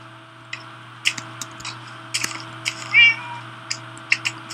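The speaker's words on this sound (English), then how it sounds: "possibly it sounds like a cat." A cat in the game Minecraft meows in short, separate calls scattered over a steady low hum, with a few clicks between them and one longer, clearer meow near the middle.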